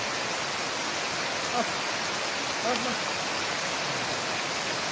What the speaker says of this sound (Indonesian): Astagfirullah, tambah hujan ya Allah.